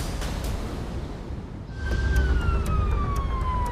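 An ambulance siren starts midway and sweeps slowly downward, loud against steady road rumble, as the ambulance passes nearby.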